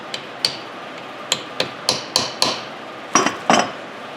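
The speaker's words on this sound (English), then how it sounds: "It just fits over this and you hammer them on." Sharp metallic hammer strikes on Dodge Ram Cummins front driveshaft parts ring out one at a time at an uneven pace, with a quick double hit near the end; no voices.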